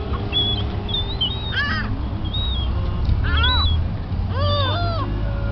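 Several birds near a truck give harsh, meow-like calls in repeated bursts, a few loud and close, others fainter, over steady outdoor background noise.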